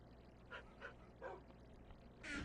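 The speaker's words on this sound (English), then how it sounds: "I hear you panting over here, little... Well, not so little puppy" A large dog in Minecraft Bedrock Edition makes a few soft whimpering, panting breaths at low volume over faint steady background noise, with a brighter burst at the end.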